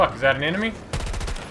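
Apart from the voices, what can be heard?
gunfire from the video game Battlefield 2042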